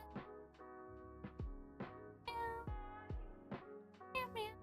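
A person imitates a cat, letting out a rapid string of about a dozen high, drawn-out meows in quick succession, close and clear.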